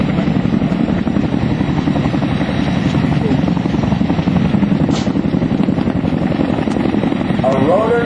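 An MH-47E Chinook tandem-rotor helicopter at a joint services open house, its rotors producing a loud, close, continuous rapid thudding beat with engine roar throughout.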